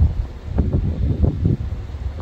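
Gusty wind in a snowstorm near Grenoble buffets the microphone in low, rumbling bursts, rising and falling several times in quick succession.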